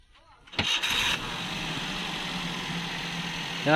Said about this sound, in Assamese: ইঞ্জিন ষ্টাৰ্ট, ক'তো অলপ ভাইব্ৰেশ্যন নাই, ইমান ধুনীয়া মিহি চাউণ্ড